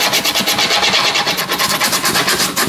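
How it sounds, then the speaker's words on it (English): A file rasps along the edge of skateboard grip tape on the nose and tail, a loud, close, continuous scraping with quick back-and-forth strokes and no voices. "file it down a little more on the nose and tail"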